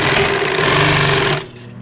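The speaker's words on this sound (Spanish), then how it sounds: "con esta pata, usted puede coser, tirar esta costura" A sewing machine stitches a seam using a presser foot, a loud, steady rapid whirring chatter that runs continuously, then stops abruptly near the end.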